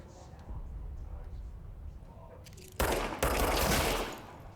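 Rapid bursts of gunfire from the video game Control, starting under a quiet voice and then breaking into two loud, dense volleys of automatic shots.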